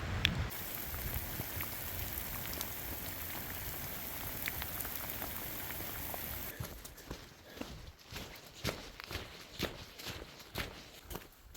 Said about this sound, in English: The bad weather is back. The thunderstorm is coming back for revenge.